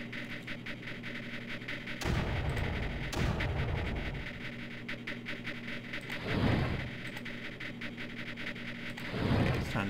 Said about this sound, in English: There's so many guns firing.